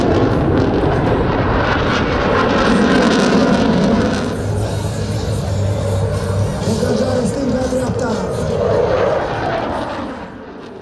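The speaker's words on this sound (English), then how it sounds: "These F-16s are Block 20 MLU variants." F-16 Block 20 MLU fighter jets roar loudly and continuously at an airshow, a broad sustained engine rumble that holds steady before easing slightly, with faint voices in the crowd.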